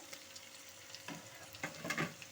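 Potato and pointed gourd curry with mashed potato being stirred in a frying pan, a soft sizzle with a few scraping strokes of the spoon, fairly quiet and without voices.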